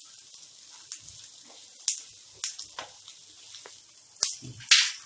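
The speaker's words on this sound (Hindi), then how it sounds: "बारीक कटा हुआ कैरेट और इसे हम इतना ही भूनेंगे जितना कि इसका कच्चापन दूर हो जाए" Finely chopped carrots sautéing in a pan for Indian-style egg noodles, a quiet close sizzle broken by scattered sharp clicks and scrapes of stirring, loudest near the end, with no voices.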